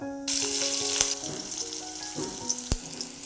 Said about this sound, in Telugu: కొంచెం నూనె ఎక్కువ వేసాను మెంతికూర వేగడానికి